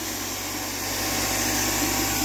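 Tesla turbine spinning under load at high RPM, a continuous dense whirring hiss with steady tonal hum underneath, constant and close with no talking.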